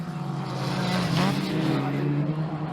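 Historic Formula Ford race cars running nose to tail through a corner at Croft, a loud engine drone rising and falling as they sweep past, with commentary talk over it.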